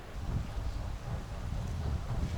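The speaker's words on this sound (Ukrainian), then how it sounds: "ще й вітер такий поривістий, нормальний." Gusty wind buffets the microphone with a low, rumbling roar that swells and eases over a couple of seconds.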